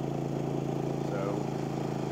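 A Westinghouse iGen 4500 inverter generator holds a steady, close droning hum with a layered harmonic tone as it revs up under a microwave load, running evenly throughout.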